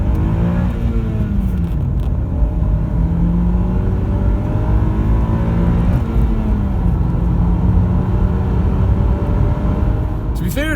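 A Honda Accord's 2.4 K24 i-VTEC engine drones and climbs steadily in pitch as it accelerates onto a motorway, rising tones layered over constant road rumble, close and continuous throughout.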